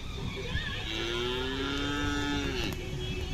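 A single long, low moo from a Khillar cow that has just calved rises and holds for nearly two seconds, close by, over steady farmyard background noise.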